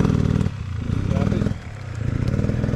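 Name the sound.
motorcycle engine revving on snowy road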